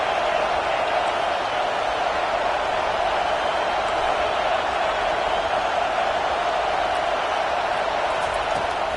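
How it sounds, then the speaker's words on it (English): A home stadium crowd at a college football game, a continuous, loud, even roar that holds steady throughout with no distinct individual voices. "Man, this crowd really affecting the football game."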